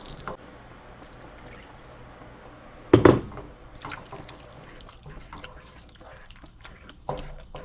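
Milk is poured a little at a time into a thick, lumpy mixture while it is stirred, giving soft wet splashes and one sharper, louder slosh midway, with quiet liquid movement around it.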